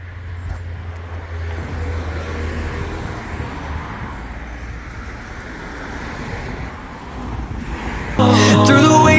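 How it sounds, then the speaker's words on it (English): Cars passing on a road near Lille, a steady rushing traffic drone with vehicles swelling and fading, fairly loud, before music abruptly takes over at the end. "It's a pity that there are cars passing by every now and again."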